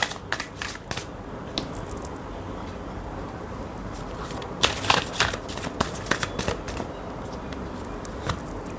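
Tarot cards are shuffled by hand in repeated crisp riffling bursts, some quick and clustered, others spaced out, close and clear with no talking over them.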